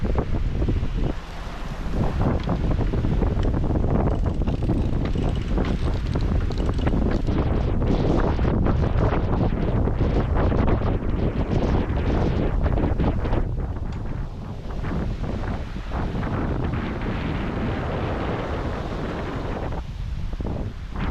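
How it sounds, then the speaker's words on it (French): Heavy wind, about 17 knots, roars continuously across the microphone on a sailboat at sea, with rushing water and heavy rain noise, loud and unbroken throughout, no voices. "Là, on a 17 nœuds de vent, mais beaucoup de pluie."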